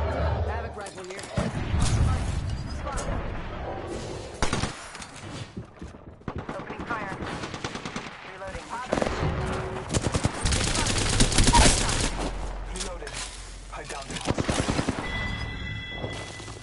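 Havoc rifle gunfire in the shooter Apex Legends, with bursts of rapid automatic shots and booming impacts in dense, loud combat noise, mixed with talk throughout.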